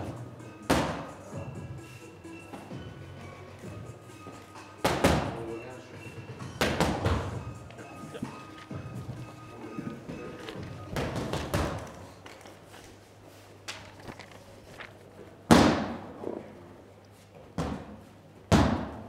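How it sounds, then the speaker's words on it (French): An open workout by an MMA fighter, with elbows, knees and kicks landing on pads: irregular, heavy thuds and sharp slaps, some in quick pairs, ring out over a steady low hum while someone talks throughout. "Donc on appuie un peu plus les coups maintenant pour Pietro Pennini"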